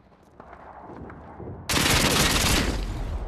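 Rapid automatic gunfire from Modern Warfare 2 bursts in loud and close partway through, following quieter, more distant shots, and continues as a dense rattling volley to the end.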